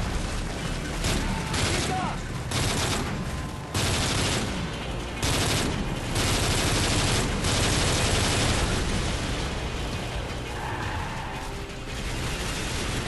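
Gunfire in the Call of Duty Modern Warfare 3 video game: dense, continuous automatic bursts and explosive cracks crowd the entire stretch, loud and close, with a voice talking over the battle.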